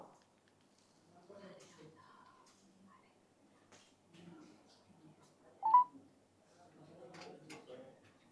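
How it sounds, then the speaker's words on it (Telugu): Telephone keypad tones as a number is dialed on a call, faint beeps in a quiet room with soft handling noises and a sharper tone partway through. "వీణా గారికి కాల్ చేసి ప్రయత్నం చేద్దాం."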